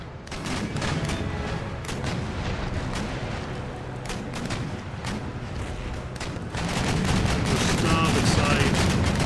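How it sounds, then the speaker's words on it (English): Warships exchange cannon fire in the naval battle game Empire: Total War, dense repeated booms and crackling volleys over a steady roar, growing louder and busier toward the end. "you just pump shots into the heavy frigate"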